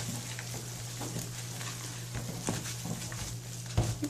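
Cookie dough with raisins and chopped apricot being mixed in a bowl, soft repeated scraping and squelching strokes under a constant background hum, no talk.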